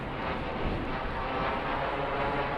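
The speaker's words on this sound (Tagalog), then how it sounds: "Ingay yung eroplano." An airplane passes over the Humber Arboretum park, a loud, steady, broadband roar that fills the whole stretch without a break or any voices.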